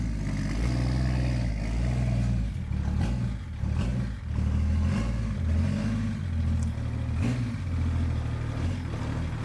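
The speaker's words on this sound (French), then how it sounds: "Dans un premier temps, on va déjà rentrer la voiture." A BMW E46 car is driven into a garage, its engine running loud and close throughout with a steady rumble and shifting revs, with small clatters along the way.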